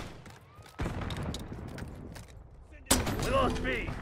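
A grenade launcher fires twice in a multiplayer video game, each shot a sudden loud blast followed by a rolling, rumbling tail, the second boom sharper and nearer.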